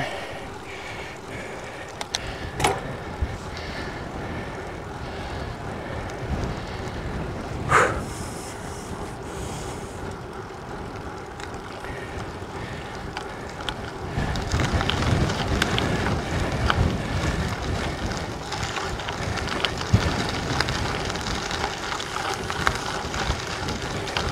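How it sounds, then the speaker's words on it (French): Steady headwind roars and buffets the microphone during a gravel bike ride, rising in strength toward the end, with a few sharp knocks along the way. "Le beau vent de face, 3/4 face."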